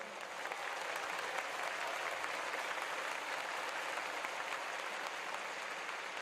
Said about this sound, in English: もう一度選手たちに温かい拍手を送ってあげてください